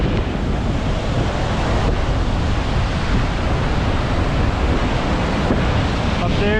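Loud crashing surf and gusting wind at Chapel Beach, Pictured Rocks, a continuous dense roar of waves on the shore with heavy wind buffeting the microphone throughout.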